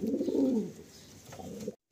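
A Malwai, Andhra or Madrasi pigeon coos close by in a couple of low, rolling phrases, the first fuller and the second softer, before the clip falls silent.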